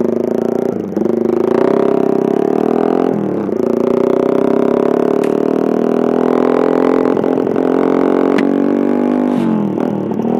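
A motorcycle engine runs close and loud, its pitch climbing in long rising revs broken by brief dips as the throttle is eased and opened again, with no voices over it.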